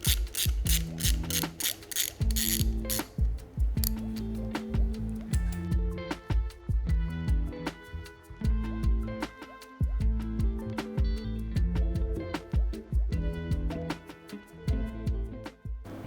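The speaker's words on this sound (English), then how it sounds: "I'm going to remove this bracket and plate as well, and then release the bolts from the manifold." Ratchet wrench loosening bolts on an engine manifold, giving fast repeated clicking bursts in a steady rhythm with short pauses, close and fairly loud, with no talking.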